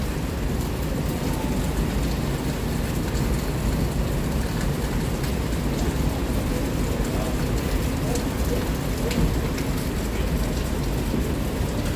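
Steady rain falls outdoors while people wait for an online taxi, a dense continuous hiss and patter with a low rumble, loud and unbroken throughout, with faint voices mixed under it.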